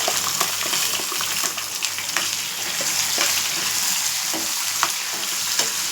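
Shallots, green chilies, garlic and curry leaves frying in hot oil, giving a steady close crackling sizzle with scattered sharp pops throughout and no voices.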